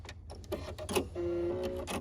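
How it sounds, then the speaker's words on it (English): A Brother Pacesetter PS500 sewing machine runs its automatic thread cutter, giving a short close sequence of mechanical clicks and ticks followed by a brief whirring motor buzz, quiet and without speech. "It just cut your thread for you."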